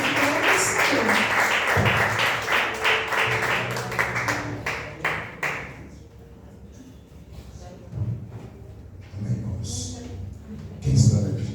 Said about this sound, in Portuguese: Vamos receber o pastor, né, irmãos? Com palmas glorificando o nome do Senhor.